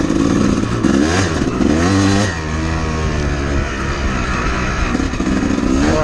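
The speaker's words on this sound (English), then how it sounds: "Or a day like this, riding my bike." A dirt bike engine drones loud and close while being ridden, with rising and falling revs and some rattling clatter throughout.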